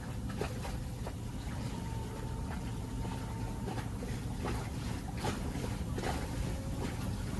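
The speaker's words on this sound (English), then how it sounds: "watching all these cute little trawlers trawling the river for prawns" Small prawn trawlers work the Clarence River at Maclean, a steady low engine drone with water wash running throughout, fairly near and unbroken, with no talking.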